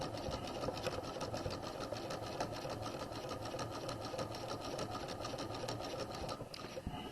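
A sewing machine stitches the elastic waistline casing on a skirt, running a steady, close, continuous motor whir with rapid needle rhythm from start to finish.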